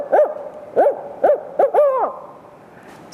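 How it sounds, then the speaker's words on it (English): A barred owl gives a run of loud, close hoots in the classic 'who cooks for you' rhythm: four evenly spaced notes, then a longer drawn-out final call that slides down, with no talking. "The barred owl sounds like he's saying, who cooks for you? Who cooks for you all?"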